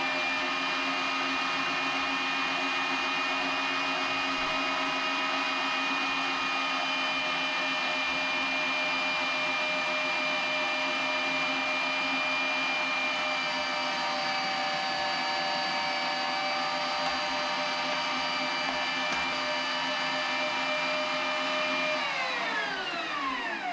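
Electric meat grinder working pork butt into a fine grind: a steady, loud motor whine with sustained harmonic tones runs continuously, dipping slightly in pitch near the end, with no voices over it.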